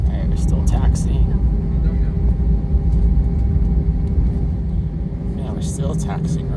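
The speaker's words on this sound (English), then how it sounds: "Yeah, we're still taxiing around." Aegean Airlines airliner taxiing at Sofia airport, a steady loud low cabin rumble of engines and rolling wheels throughout, with faint chatter and small bumps over it.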